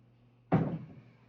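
A door closes indoors with a single soft, muffled thud that fades quickly into a quiet room.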